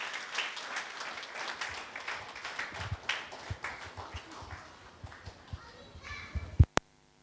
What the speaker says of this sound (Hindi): ज़ोरदार तालियों के बीच आमंत्रित करूंगा भैया को